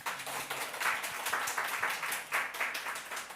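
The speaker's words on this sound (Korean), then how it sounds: "우리 전호종 형제님 좀 박수로 조금." A church congregation gives a short round of applause to welcome a visiting member joining worship for a few months, with soft, steady clapping that swells in small waves and stays fairly quiet.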